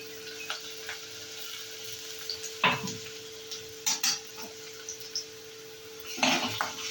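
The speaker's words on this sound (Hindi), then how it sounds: "तो अब लहसुन डाल दिया है तो इसको बहुत अच्छे तरीके से भूनना पड़ेगा" Garlic and onion fry in a pan, a soft steady sizzle under scattered clinks and scrapes of a spoon stirring against the metal.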